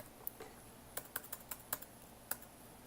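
Keystrokes on a computer keyboard as a publication name is typed into a search field, about a dozen crisp clicks in short irregular bursts, fairly close and alone with no talk.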